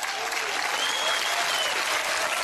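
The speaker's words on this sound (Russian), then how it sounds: "Ваши аплодисменты." A television comedy show studio audience breaks into dense, sustained applause, an even wall of clapping with no talk over it.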